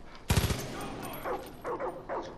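A short, loud burst of rapid machine gun fire in the Far Cry 5 video game, followed by several fainter bursts of shots or yelps further back.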